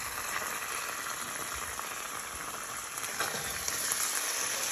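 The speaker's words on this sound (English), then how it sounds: "Now you want to place the rest of your cauliflower in with your sauce." Cauliflower sizzles in sauce in a pan for Bang Bang Cauliflower, giving a steady, loud crackling fry that runs the whole time and grows slightly busier near the end.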